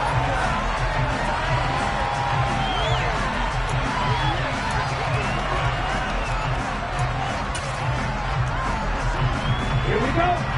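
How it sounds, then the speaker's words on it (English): Virtual stadium crowd in the Madden 23 football game, a dense continuous roar with scattered whoops and shouts, steady and loud throughout, with commentary-style talk mixed in. "Shouts from this crowd as they watch the replay."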